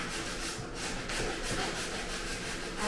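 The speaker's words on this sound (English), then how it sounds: "I'm just going to sand this all around." Sandpaper is rubbed by hand around a bathroom fixture, a continuous close scratchy rasping with rhythmic back-and-forth strokes and no pauses.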